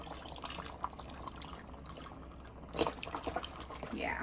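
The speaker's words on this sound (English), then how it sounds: "you're gonna take your beef stock and you're gonna pour it over until these are all covered" Beef stock poured from a carton over short ribs in a pot for a wine braise, a steady liquid trickle with drips and a brief splashy burst partway through, fairly faint and alone.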